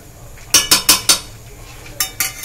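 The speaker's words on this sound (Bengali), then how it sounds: "মশলার সঙ্গে আমি ছোলাটাকে ভালো করে কষে নিচ্ছি" Chickpeas stirred with spices in a pan for restaurant-style chana masala: a metal spoon clinks and scrapes against the pan in a quick run of four close strikes, then two more after a pause, near and clear with no talk.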